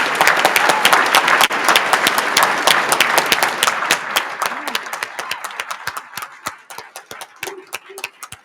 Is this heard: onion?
no